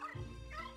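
Polterpup, the ghost dog in Luigi's Mansion 3, gives a short faint bark-like yip, brief and quiet.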